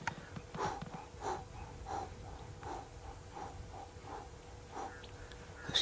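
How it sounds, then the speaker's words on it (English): A large male lion breathes heavily nearby, a slow rhythmic series of deep wheezing, snorting inhales and exhales, faint but distinct over quiet surroundings. "the breathing of that big male lion."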